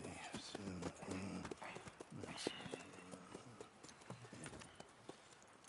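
A horse's hooves clip-clop in a steady walking rhythm inside a console video game, close and clear, while voices talk over the top.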